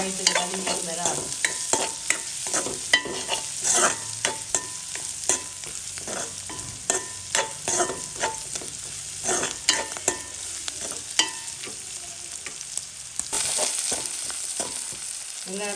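Garlic and onions sauté in hot oil for a crab curry, a steady close sizzle broken by frequent sharp scrapes and clacks of a spoon stirring the pan, with no talking.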